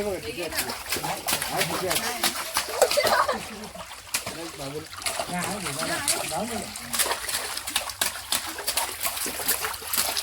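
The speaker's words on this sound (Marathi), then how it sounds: "दोघेही एकमेकांच्या अंगावर पाणी उडवून मस्त खेळू लागले" Children splash cold water at each other while playing outdoors at a village, with steady sloshing and splatter running under their continuous excited voices throughout.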